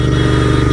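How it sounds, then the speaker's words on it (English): Royal Enfield GT 650 motorcycle with a loud exhaust, a close, steady, deep engine rumble that fills the whole short moment without a break. "This bike gets some crazy reaction, guys. The exhaust is too loud"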